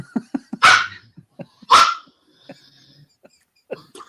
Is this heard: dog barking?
yes